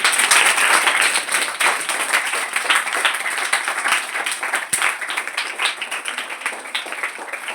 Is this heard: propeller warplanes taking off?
no